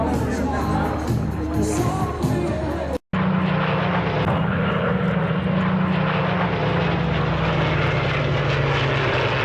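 At the Warbirds Over Wanaka airshow in New Zealand, a propeller warbird drones loudly and steadily overhead, its engine tone shifting as it passes, while a commentator talks over the loudspeakers and a crowd murmurs.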